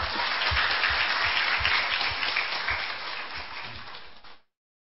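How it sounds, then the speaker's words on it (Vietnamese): An audience at a Catholic Bible study session claps for itself, a moderate, fairly even wash of hand claps that gradually thins and then cuts off abruptly near the end. "thì phải tự vỗ tay mà khen mình."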